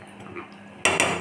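Fenugreek seeds are stirred in a metal cooking pot, heard as a quiet hum followed by two loud, sudden metallic scrapes and clanks of a utensil against the pot.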